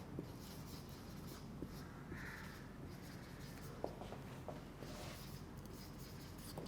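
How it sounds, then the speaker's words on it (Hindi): Pen or marker scratching out notes on a board during an online biology lecture, soft intermittent strokes and taps over a faint steady room hiss, with no talking. "तो सबसे पहले हम यहाँ लिखते हैं"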